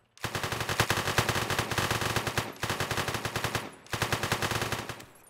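Enemies fire up at the player in the One Armed Robber video game: three long bursts of rapid automatic gunfire rattle loudly, with brief gaps between them and no voices.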